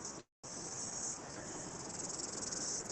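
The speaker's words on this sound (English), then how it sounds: "Lots of cicadas everywhere shedding their skins." Cicadas shrill in a dense, steady high buzz along a New Zealand coastal path near Muriwai, with a brief gap early on before the pulsing chorus resumes loud and continuous.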